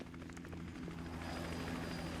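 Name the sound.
helicopter in video game GTA Online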